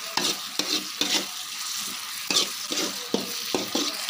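Salted food fries steadily in a pan, a dense sizzle broken every half second or so by louder scraping bursts as it is stirred, close and with no talking.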